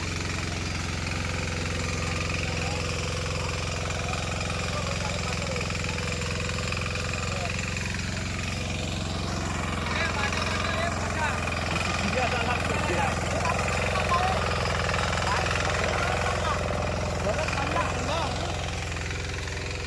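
A farm irrigation water pump engine drones steadily with a continuous low hum and rapid mechanical thudding, running throughout at a constant, fairly distant level.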